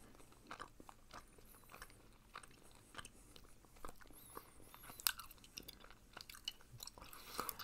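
Close, quiet chewing of Hubba Bubba bubble gum, with soft wet smacks and small crackly bites repeating irregularly throughout, and no talking.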